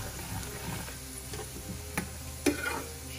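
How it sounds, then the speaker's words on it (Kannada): Herbs and ingredients for a homemade hair oil fry gently in a pan, giving a soft steady sizzle with light stirring scrapes and a couple of sharper clicks near the end, close and fairly quiet. "ಇದು ಫ್ರೈ ಆಗ್ತಾ ಇದೆ"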